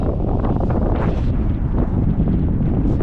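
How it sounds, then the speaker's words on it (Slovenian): Strong, cold wind gusts steadily across the microphone at the volcanic crater lake Fogo in a caldera on the Azores, a continuous loud roar with no talk. "Sicer pa močno piha, hladno"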